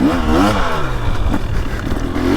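A 2023 300cc two-stroke enduro dirt bike, Beta 300 Race Edition or KTM 300XC, ridden through a woods loop, its engine revving loudly and continuously up close with rising pitch sweeps and clattering over rough ground.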